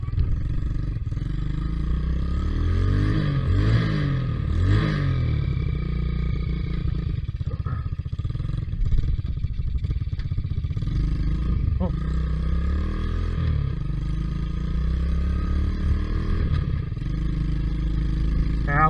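A quad bike on an off-road ride, its engine running close and loud throughout, revving up and down in rising and falling sweeps over a constant rumbling drone.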